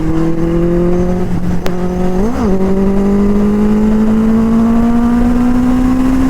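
Kawasaki Z900 motorcycle engine idling while warming up, a loud steady close drone that rises slightly in pitch, with one brief blip of revs partway through.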